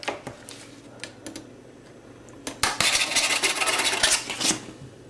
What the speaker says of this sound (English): So I'm going to cut approximately 30 grams of butter.